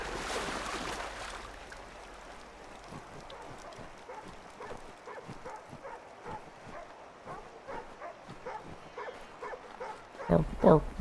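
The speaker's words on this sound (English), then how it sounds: "Bark, bark, bark, bark, bark, bark." A dog in the video game Assassin's Creed 3 barks in a long, evenly spaced series over faint game ambience, ending with a louder burst of sound.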